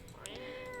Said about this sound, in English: Meow. Feed the cat some canned food.